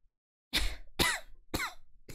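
Three sharp, close coughs in quick succession after a moment of silence, each harsh and breathy.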